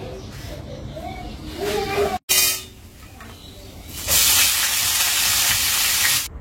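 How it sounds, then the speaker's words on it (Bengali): Garlic and two green chilies fry in oil, with a loud, steady sizzling hiss building in the second half after quieter kitchen sounds, a brief pause and a voice talking. "রসুন আর 2টো কাঁচা লঙ্কা দিয়ে তেলানিতে দিয়ে ভালো করে ভেজে"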